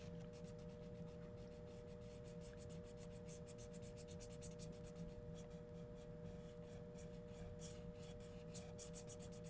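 Colored pencil scratching steadily across paper while filling in a drawn hat, a continuous close, soft rasping with quick repeated strokes and no talking.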